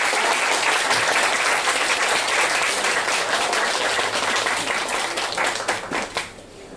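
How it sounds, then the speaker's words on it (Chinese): Sustained, dense applause from a lecture audience at a science talk, loud and steady for several seconds before thinning out toward the end. "在这边可以给我们邱老师一个热烈掌声"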